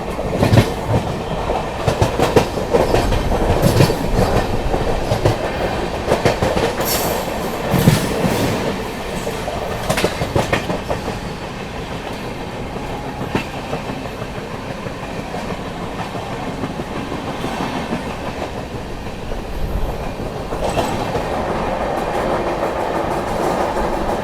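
Poorvottar Sampark Kranti express train running through Tundla Junction without stopping, a loud, continuous rumble with a rapid clickety-clack of wheels over rail joints, heard from on board, slightly heavier at first and then steady.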